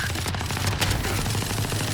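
Sustained light machine gun fire in Valorant, a steady rapid stream of loud gunshots with no pauses across the whole burst.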